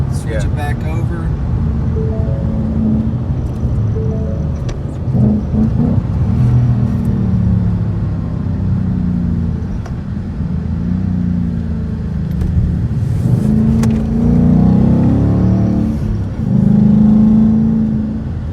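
Exhaust of a 2019 Ford Mustang S550 PP2 with a six-speed manual rumbles steadily as it switches out of quiet mode, swelling louder at moments, with a voice talking over the engine throughout.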